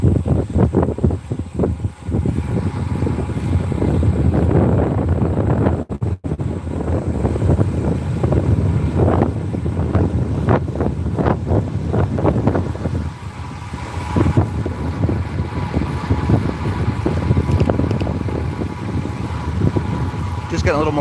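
Headwind buffets the microphone of a rider cycling laps in a park, a continuous low rumbling roar for the whole stretch, rising and falling in gusts, with speech over it.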